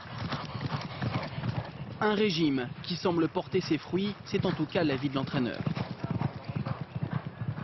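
A racehorse's hooves clip-clop at a steady walking pace, close and distinct, under continuous French narration.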